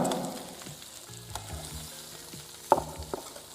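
Spices and chili powder frying in oil for a mountain goat mutton curry, a steady soft sizzle with a few light clinks and scrapes of stirring toward the end.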